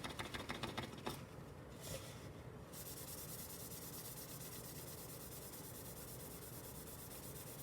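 A cloth soaked in acetone wipes and scrubs epoxy off a tumbler, giving a soft, steady rubbing hiss after a few brisk strokes at the start, quiet and close with no talk.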